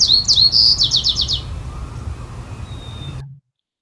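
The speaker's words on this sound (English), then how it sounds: "This is an American bird called the white-crowned sparrow." A recorded white-crowned sparrow song from Blaine, Washington: a clear opening whistle followed by a quick run of sharp repeated chirps, fading over a low background hum before cutting off.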